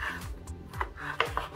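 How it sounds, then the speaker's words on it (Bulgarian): A knife slices through ham on a board in a kitchen, giving a few soft, close scraping and tapping cuts at an uneven rhythm, with no talking. "си нарязваме една хубава шунка"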